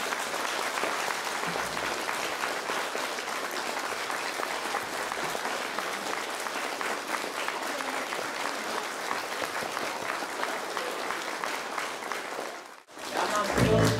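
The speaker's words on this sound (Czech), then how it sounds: "Já bych navrhoval teda, že bychom panu Arneštovi potleskem poděkovali" An audience gives a long, thick round of thank-you applause, steady and loud for about thirteen seconds, then it cuts off abruptly and a voice begins speaking.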